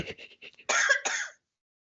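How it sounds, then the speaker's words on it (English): A short burst of harsh coughing, two or three loud coughs close together, preceded by some quieter throat noises. "the worst time to have a coughing fit"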